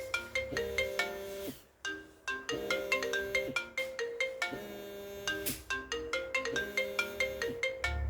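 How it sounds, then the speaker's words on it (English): A phone ringtone plays a bright, repeating electronic melody for several seconds, loud and steady, with no voices over it. "And off the phone goes."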